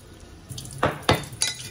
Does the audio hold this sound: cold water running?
yes